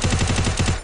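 Gunfire in a video game, a rapid burst of several loud close shots in quick rhythmic succession, cut off abruptly after under a second, with no talk.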